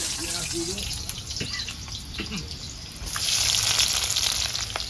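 Onions dropped into hot oil in a pan on a gas stove inside a truck cab give a sizzle that swells louder over the last couple of seconds. Faint knocks and scraping sound earlier in the clip.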